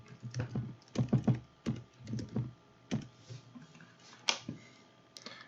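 A computer keyboard being typed on to enter a project name in the Eagle circuit-design software, heard as close, irregular bursts of clicking keystrokes separated by brief pauses, with no talking.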